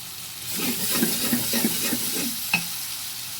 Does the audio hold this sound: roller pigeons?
no